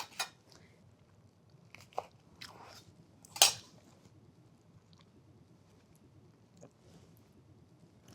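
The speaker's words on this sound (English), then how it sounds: "Try to cut into the cucumber." Knife slicing into cucumber for tea sandwiches at home, a few sharp crunchy cuts spaced across the moment, close and fairly quiet against a soft room background.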